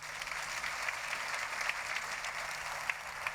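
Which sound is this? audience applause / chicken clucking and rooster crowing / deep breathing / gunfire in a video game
audience applause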